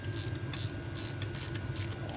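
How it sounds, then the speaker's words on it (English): Two ratchets tightening the pump rail bolts on a new CAT pump, a rapid, continuous clicking close by at low volume. "So I got 2 ratchets here going at it."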